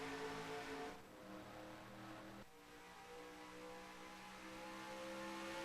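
Race cars accelerate at the Auto Club oval in a racing game, a faint, steady engine whine with a sustained droning pitch and brief dips.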